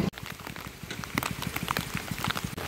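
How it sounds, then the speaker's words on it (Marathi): Light, continuous rain falls in the Mangeli waterfall area of Konkan, a steady close patter of fine drops hitting surfaces, with no one talking. "बारीक बारीक ना पाऊस असं पडत असता कंटिन्यू"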